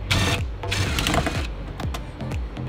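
Screws being backed out of a Ferrari 360 body panel with a Phillips tool, a run of quick mechanical ratcheting and rattling bursts, close and fairly loud, with short gaps between turns.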